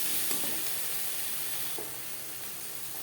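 Salt, turmeric, onion and masala for a pabda fish curry with vegetables sizzle loudly and steadily in a pan as they are mixed, with a couple of soft stirring scrapes.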